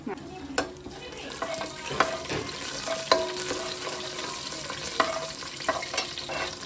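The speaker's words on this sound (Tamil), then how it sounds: "நல்லா எண்ணெய் காஞ்சதும் பிரியாணி எண்ணெய், பட்டை, கிராம்பு, ஏலக்காய் இலை, சோம்பு, சீரகம் எல்லாத்தையும் போட்டு" Whole spices such as cinnamon, cloves, cardamom, bay leaf, fennel and cumin fry in hot oil in a kadai, giving a steady close sizzle broken by sharp clicks and scrapes of a stirring spoon.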